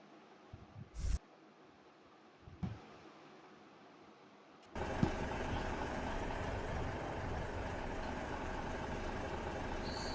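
A simulated bus engine from the game Bus Simulator Indonesia starts after a few short clicks and bumps, then settles into a steady, fairly loud idling drone with no talking.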